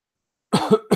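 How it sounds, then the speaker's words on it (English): Two or three harsh, close coughs burst out after half a second of silence, rough and throaty, ending abruptly. "I had this cough now for a couple weeks"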